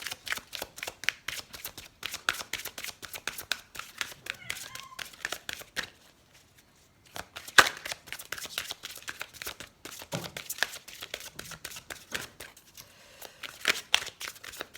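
Oracle cards are shuffled and drawn in quick, rustling riffles and flicks with a brief pause midway, close and fairly soft, under someone speaking French.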